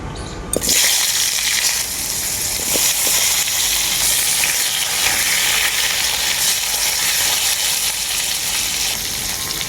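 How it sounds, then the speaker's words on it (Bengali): Loud, continuous sizzling as sliced cucumber and cucumber peels fry in hot oil with chilies and black cumin for a khaira fish recipe, a steady hiss throughout with no talking. "খোসাগুলোকে আমি খুব ভালো করে ভেজে নেব"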